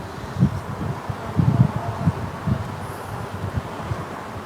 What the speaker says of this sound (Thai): อาจจะได้ยินเสียงลมแรงนิดนึงนะบริอากาศมันร้อนอยู่ในห้องนะครับ